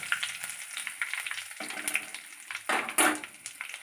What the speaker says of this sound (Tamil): அதில் போட்டு நம்ம வதக்கணும்.